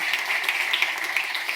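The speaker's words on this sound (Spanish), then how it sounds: "Un aplauso para Fernando" Steady audience applause for Fernando García at a pop culture talk, a dense, even patter of many hands clapping that lasts the whole short stretch at moderate level.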